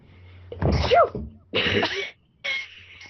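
Three sneezes follow one another in quick succession, loud and close, with short pauses between the bursts.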